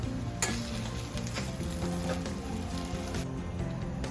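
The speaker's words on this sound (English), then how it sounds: "And you give a mix again so that it is mixed well." A lauki muthiya mixture with white sesame seeds stirred in a hot pan, a steady sizzle with scraping strokes and a couple of sharper utensil knocks, no voices.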